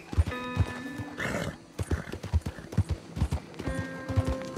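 A horse in Red Dead Redemption 2 clip-clops along in a steady rhythm of close, thudding hoof beats, with a loud whinny breaking out partway through and faint ringing tones behind.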